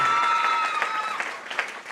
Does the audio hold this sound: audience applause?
yes